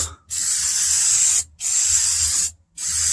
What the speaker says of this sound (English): Just think of the spray can as an extremely cheap paint gun.